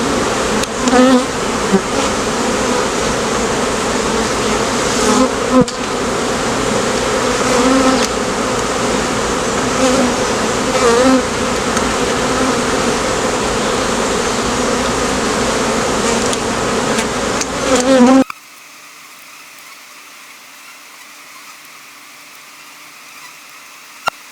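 A dense, steady buzz of a rescued honeybee swarm fills the air for most of the clip, then suddenly drops to a much quieter hum.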